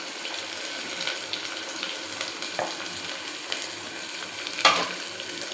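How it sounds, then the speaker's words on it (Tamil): Onions sautéing in a pan at the start of a cabbage and prawn stir-fry, a steady close sizzle with a few light stirring clatters and one sharper knock near the end. "வெங்காயம் வதங்கட்டும்."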